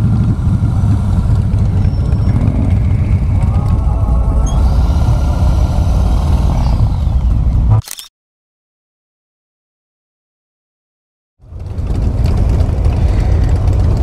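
Fifteen Harley-Davidson motorcycles on a group ride idle together at a scenic stop on a Tennessee parkway, a steady low engine rumble that cuts out abruptly to silence for a few seconds before resuming.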